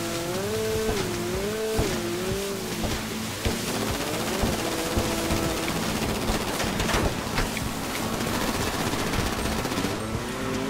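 Gunfire and racing car engines roar in Grand Theft Auto V Online, with revving engine whines and squealing tires under steady, dense shots and impacts across the whole stretch.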